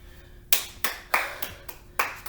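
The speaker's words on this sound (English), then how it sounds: "Claps to you." Sharp percussive hits at an uneven pace, about six of them, closing out a core strength workout session, fairly close and with no talking over them.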